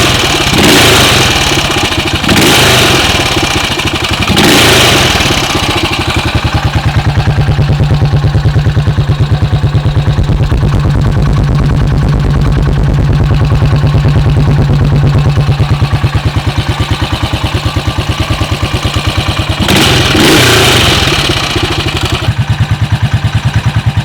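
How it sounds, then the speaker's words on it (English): A 1972 BSA B50SS British single-cylinder motorcycle in good running order idles with a loud, close, steady thump, broken by several sharp throttle blips near the start and again near the end. "Listen to that big British single."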